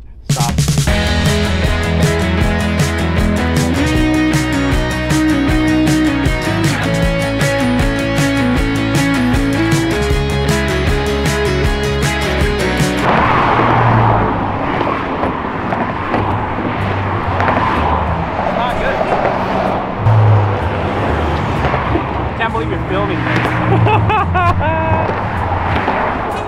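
A car drives on the open road, heard first under music and then as a steady broadband road rumble from inside the cabin, with people talking over it.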